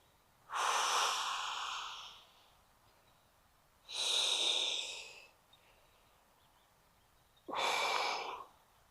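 Three slow, deep breaths taken during a chest stretch, each a long, breathy exhale lasting over a second, separated by quiet pauses, close and clear with no talking.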